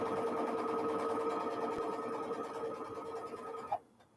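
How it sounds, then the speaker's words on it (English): A sewing machine chain-sews quilt string blocks in a steady, fast whirring run with rhythmic stitching. It stops abruptly near the end, leaving near quiet. "I'm going to do some chain sewing here"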